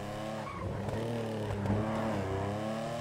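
A tuned car in GTA V Online revs hard, a steady, loud engine drone rising and falling in pitch with no talk over it.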